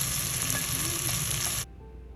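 Onion and garlic hitting hot oil in a pot, a loud steady sizzle and crackle that stops abruptly near the end, leaving quiet background.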